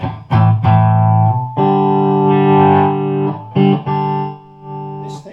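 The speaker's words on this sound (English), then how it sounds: "need to put this in for the foot switch to get the distortion on." Loud distorted electric guitar through a Vox Super Foundation Bass solid-state amplifier, a few short chugs then long sustained fuzzy chords ringing out, with brief gaps between.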